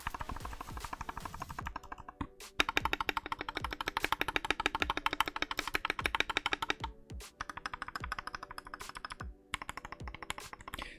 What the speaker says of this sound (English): And I got clip stabilizers and everything on this keyboard too, so like it sounds very nice.